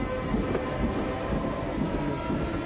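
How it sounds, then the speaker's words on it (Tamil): A train pulls out of a station with a low, rumbling roll and faint rattling of the carriages, moderately distant and steady throughout. "ட்ரெயின் கிளம்பிடுச்சு"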